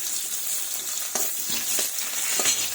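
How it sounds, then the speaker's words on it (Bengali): Chopped onion sizzles in hot tempered oil in a kadai, a steady bright frying hiss with a few soft stirring knocks, close and without talk. "কড়াইয়ে ফোড়ন দিয়েছি, এবার পেঁয়াজ কুচি দেব।"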